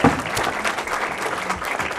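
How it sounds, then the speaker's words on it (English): A hall audience at a city address applauds a business association representative, a continuous even patter of many hands clapping at close range. "please step forward and receive some applause from a hearing audience"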